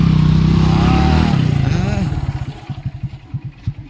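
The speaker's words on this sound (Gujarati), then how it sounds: "ચલો હર્ષદભાઈ બાઇક ચલાવે" A motorcycle engine runs loud and close, first holding a steady hum, then breaking into quick, uneven throttle pulses as it pulls away, with voices around it.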